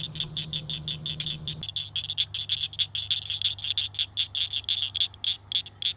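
Bell frogs croaking in a rapid, regular pulsing chorus, close and clear, with a low hum underneath at first that drops away partway through.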